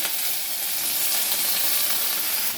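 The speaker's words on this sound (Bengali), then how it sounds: "পেঁয়াজটা তাড়াতাড়ি ভাজার জন্য একটু লবণটা দিয়ে দেবো" Chopped onions fry with a pinch of salt in hot oil for egg tadka dal, a steady, close sizzle with no talking.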